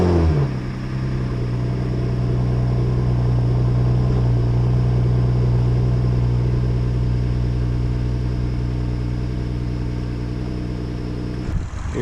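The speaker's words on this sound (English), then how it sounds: "Now, time to get to the location to crank some VTEC." A Honda V6 VTEC engine with a hot air intake drones steadily inside the car while driving, a loud low hum holding an even pitch that drops away near the end.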